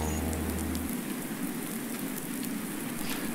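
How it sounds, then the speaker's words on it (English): Steady rain pattering on surfaces in a farming video game, a continuous dense hiss that runs alone with no voices, a low tone dropping out early on. "we've got the rain noise with no rain"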